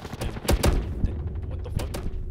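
Gunfire rattles in a Modern Warfare 2 online match, with a few sharp shots clustered near the start, more scattered bursts after, and steady background game noise throughout.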